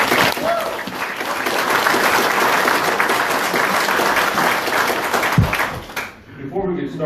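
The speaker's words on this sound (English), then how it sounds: "Let's give all of you a round of applause" Sustained audience applause fills a hall at a Treaty Alliance Against Tar Sands gathering, steady and loud for several seconds before tapering off, with talk faintly underneath.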